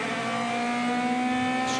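René Rast's DTM race car accelerates hard at the Nürburgring in 2018 qualifying with a loud, sustained engine howl and a steady high pitch, heard close and without voices.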